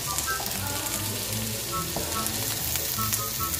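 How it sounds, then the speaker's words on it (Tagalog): Sautéed ingredients with chili being stirred in a hot pan for balbakwa, a loud, even sizzle with repeated scraping and clinking of a spatula against the pan throughout. "Yan, tuloy-tuloy ang paghahalo ng mga ingredients."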